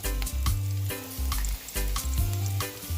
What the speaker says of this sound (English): Continue saute this onion.